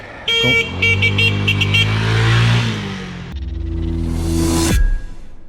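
A small scooter revs and pulls away, its engine note rising loud and close, then a brief higher whine before it cuts off.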